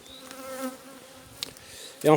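Soft, steady buzzing of honeybees close by on a hive frame, a low humming drone with a short louder rustle near the end.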